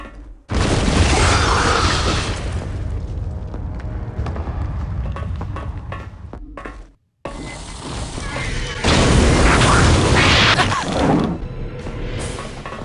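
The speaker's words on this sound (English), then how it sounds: "Those ones just exploded." Loud booming explosions and crashes from the AVP2: Primal Hunt video game burst out in two dense stretches separated by a brief silent gap, with heavy low-end rumble throughout.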